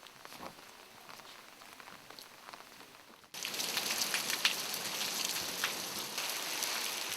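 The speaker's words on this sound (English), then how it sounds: "The next day, it starts to rain." A rain shower starts at a temple in Korea: a faint patter of drops, then a sudden jump to a steady, dense hiss of heavy rain that holds to the end.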